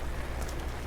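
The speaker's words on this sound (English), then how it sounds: "There's not going to be much else going on with the rain falling." Steady rain falls at a cold lakeside campsite in Lake Tawakoni State Park, a soft even hiss of drops on surfaces, unbroken and with no voices.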